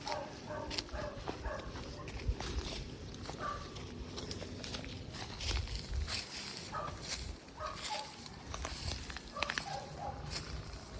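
A dog outside an abandoned house gives scattered barks and whimpers amid outdoor background noise, moderately near and irregular, with footsteps and possible fowl sounds mixed in.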